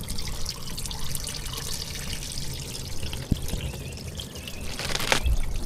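Engine oil draining from the drain plug of a Mercedes during an oil change, a steady splashing, pouring stream close by with a brief sharp knock partway through and the flow growing louder near the end.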